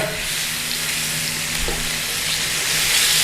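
Pork loin steaks sear in a hot pan with a steady, close sizzle and crackle of frying, a constant bright hiss that swells slightly toward the end, with no talking.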